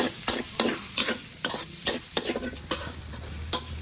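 Chopped shallots, garlic and ginger stir-fry in hot oil with a steady sizzle, while a spatula scrapes and clanks against the pan in a quick, regular rhythm, close up.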